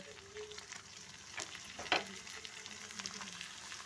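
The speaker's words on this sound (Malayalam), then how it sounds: "ഇനി നമുക്ക് ഈ എണ്ണയിലോട്ട് നമുക്ക് നമ്മുടെ ലിവറെല്ലാം ഇട്ട് കൊടുക്കാം" Liver frying in oil makes a faint, steady sizzle with a few soft clicks of a utensil, one of them sharper, and no talk over it.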